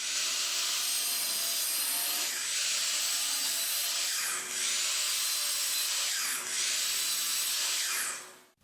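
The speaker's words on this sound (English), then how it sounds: "we're back over here at the miter saw, ready to cut the lengths of each of our boards" A miter saw cuts lengths of wooden board for a wall sconce, a steady loud whine with broadband cutting noise running nearly the whole time and a few brief surges as the blade bites through, with no talking.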